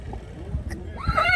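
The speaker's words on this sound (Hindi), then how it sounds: "घोड़ा आ रहा है।" A young horse, a foal, gives a clear whinny near the end, with hooves clip-clopping and people talking nearby outdoors.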